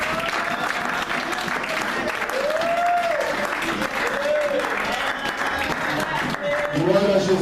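A church congregation at a worship gathering claps loudly and steadily with cheering mixed in, while sustained sung or shouted voices rise over the applause throughout.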